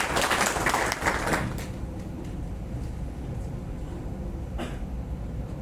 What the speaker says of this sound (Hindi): एक बार सर के लिए ताली बजा दीजिए।